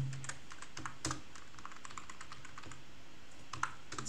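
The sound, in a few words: typing on a faulty computer keyboard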